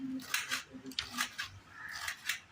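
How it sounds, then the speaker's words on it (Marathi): A knife finely slices rolled colocasia leaves in a run of crisp, quick cuts close up, with short pauses between strokes. "एकदम बारीक चिरणार."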